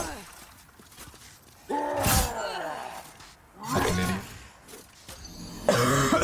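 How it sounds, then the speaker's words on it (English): A few harsh, throaty coughs in separate bursts, close and fairly loud, with quiet breathing in the pauses between them. "I just want to stop coughing, please."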